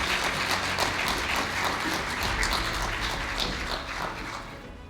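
Audience applause for a keynote speaker at a policy event, a steady dense wash of clapping that holds at an even level for about five seconds, fading slightly toward the end.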